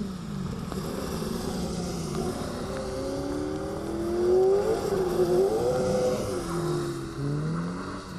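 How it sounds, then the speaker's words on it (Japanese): A Lexus LFA converted into a drift car accelerates, its engine note rising and sweeping in pitch as it revs, moderately loud and somewhat distant, with no talking. "アクセルを踏み込み、ステアリングフィールを確かめる用意中。"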